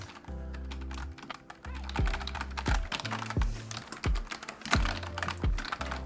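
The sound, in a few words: typing on a computer keyboard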